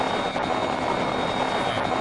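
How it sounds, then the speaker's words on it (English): A helicopter in the Immersive Vehicles game mod, heard as a loud, steady broadband rotor and engine roar that stays constant throughout with no talk. "landing a helicopter right on the dime is tricky"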